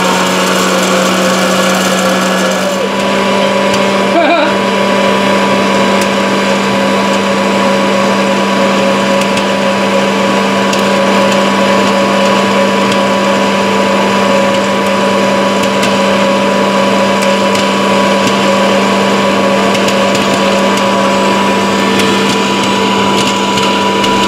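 An Elechomes electric popcorn machine runs with a loud, steady motor whir and fan hum after a brief switch-on moment, continuing unchanged throughout.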